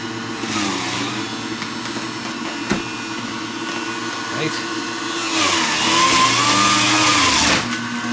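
An electric juicer on low speed, leaking and struggling with soft then harder fruit, whirs steadily at close range, its motor pitch rising and straining toward the end.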